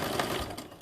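A sewing machine back stitching a tote bag seam, a brief steady mechanical whirring run, close and fairly quiet.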